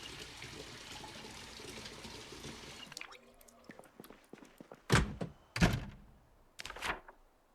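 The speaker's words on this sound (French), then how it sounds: "On peut remplir notre bouteille d'eau." Water bottle being filled in the Project Zomboid video game: running water rushes for about three seconds, followed by a few soft clicks and three short loud splashy bursts, quiet in between.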